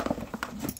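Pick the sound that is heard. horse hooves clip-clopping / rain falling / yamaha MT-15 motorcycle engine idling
horse hooves clip-clopping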